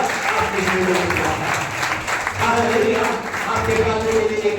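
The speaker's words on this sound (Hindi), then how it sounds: "आज अपने आप के लिए जोरदार ताली बजाएं।" A congregation applauds loudly at a Hindi-language church gathering, a dense burst of clapping with voices mixed in and speech over it.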